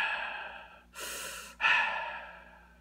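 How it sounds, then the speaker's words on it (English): A cartoon character makes breathy wheezing sounds, two or three rough, drawn-out breaths of air, heard close up and fairly quiet, with no talking. "Why are you wheezing?"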